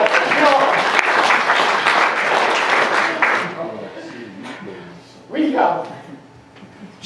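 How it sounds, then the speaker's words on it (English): An audience claps for Joan in a loud, dense burst of applause that fades after about three seconds, leaving quieter room sound and a short, sharper noise near the end. "Let's clap for Joan"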